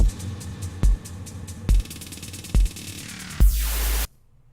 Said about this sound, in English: A halftime house beat is having a kick on the 1, a kick on the 3